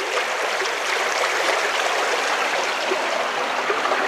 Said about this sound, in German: Das Ganze läuft hier über so einen kleinen Rinnsal